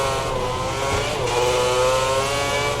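F1 race car engine from the game F1 2010, a steady high-pitched revving whine with layered harmonics, loud and continuous throughout with no talk.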